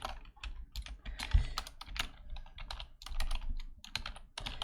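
Quick, close clicking of keys on a computer keyboard, with uneven bursts of typing and short gaps, fairly quiet and with no talking.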